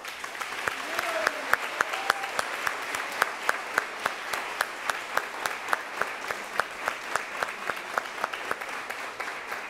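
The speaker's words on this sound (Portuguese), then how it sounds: "eu quero pedir uma salva de palmas para eles." Audience applause for junior councillors at a diploma ceremony, a steady dense round of clapping from a crowd lasting the whole stretch, with sharper individual claps standing out near the front.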